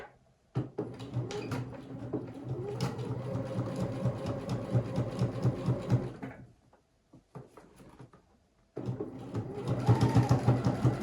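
A sewing machine stitching very close to the edge of a fabric wipes or waste basket, running in a steady close whir for several seconds, stopping briefly into near-silence, then starting up again.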